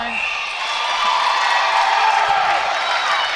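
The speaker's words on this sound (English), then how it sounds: "There's obviously a lot of Welsh supporters in the crowd today, and they're getting more and more feisty" Welsh supporters in a netball arena crowd keep up a loud, sustained roar of cheering and whooping that swells slightly toward the end, with a commentator talking over it.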